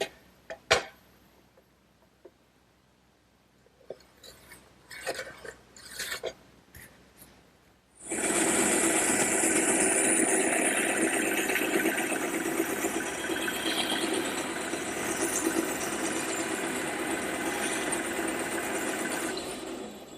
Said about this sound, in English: it's quite a luxury to have a bandsaw like this in the shop, but it sure does a great job.